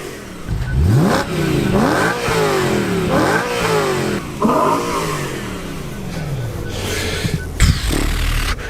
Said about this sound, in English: Induction sound is unreal. Exhaust sound is unreal. It is a V8, it is naturally aspirated.